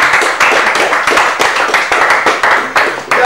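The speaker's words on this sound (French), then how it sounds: "on applaudit pour lui" A game show audience claps for a finalist who chooses to stop, brisk loud rhythmic clapping from a modest crowd that sounds close and fills the whole moment.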